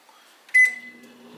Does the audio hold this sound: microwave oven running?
yes